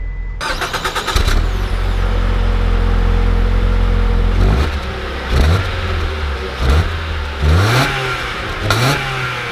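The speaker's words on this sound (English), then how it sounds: "let's take this ProMaster City out and see how she drives." A 2020 Ram ProMaster City compact cargo van starts and pulls away, its engine droning steadily, then revving through several rising gear pulls, heard loudly from inside the cabin.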